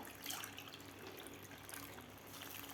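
Water pours steadily into a cooking pot of mixed-vegetable khichdi with sautéed dal, rice and spices, a continuous close splashing trickle that holds at an even level throughout, with no talking.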